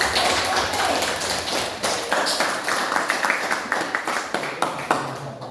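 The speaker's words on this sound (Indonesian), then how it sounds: "Mari kita tepuk tangan." Classroom of students applauding a group, a smaller room's worth of hands clapping with distinct, uneven individual claps that settle into a loose rhythmic patter before fading out.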